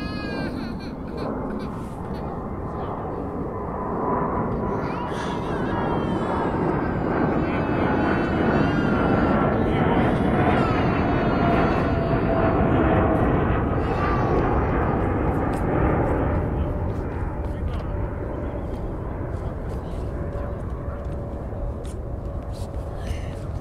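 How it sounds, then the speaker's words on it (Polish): A passenger airplane flying overhead, a broad roaring rumble that swells toward the middle and slowly fades, with faint honking or other background sounds mixed in. "to był samolot pasażerski."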